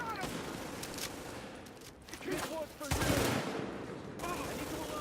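Rapid automatic gunfire from shooting in the video game Tom Clancy's The Division rattles in bursts, mixed with impact and effect sounds, while a voice talks over it.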